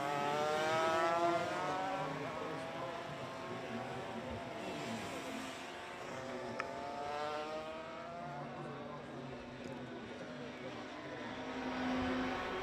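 A classic race motorcycle at the Imatra road race drones steadily in the distance, its engine note holding and rising faintly through the whole stretch, with a commentator's voice running over it.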